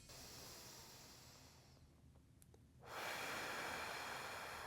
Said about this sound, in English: Do a deep inhale through your nose, and then exhale through your mouth through thinly pursed lips